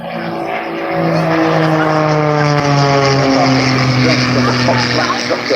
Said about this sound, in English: The aircraft really, the Pitt S2S, designed and built back in the 60s, specifically for air shows and aerobatic competitions.